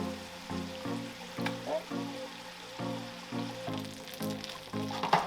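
Wagyu ribeye steak sizzling in a pan with fresh rosemary while being basted, a steady close hiss broken by rhythmic pulsing bursts from repeated spoon strokes, with faint bumps from utensils.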